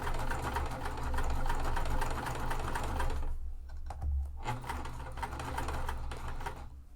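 A sewing machine stitches a batwing wallet in fast, even bursts of mechanical chatter, stops briefly partway through, then starts again. The rapid clicking sounds close by and there is no talking.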